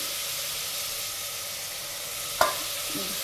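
Tomato frying in a pan for tomato rice bath, a steady close sizzle and hiss with a brief sharp clink of a utensil near the end.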